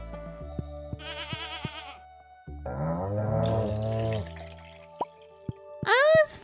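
Goats in a farming video game bleat in several wavering calls, close and fairly loud, mixed with short dripping clicks and a final high-pitched bleat.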